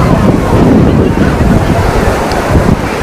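Ocean surf breaking steadily on Puri sea beach, a loud, continuous roar of waves with wind buffeting the microphone throughout.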